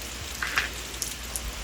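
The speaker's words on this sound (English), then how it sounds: "It's raining pretty good." Rain falls on a campsite awning at Allegany State Park, a steady close patter with scattered brighter drops tapping on the surface, with no voices.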